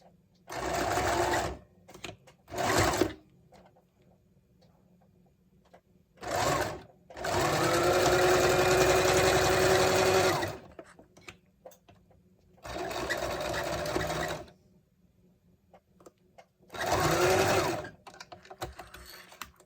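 A sewing machine back stitches a fabric face mask in several bursts of steady whirring separated by pauses, close and clear, with the longest run in the middle.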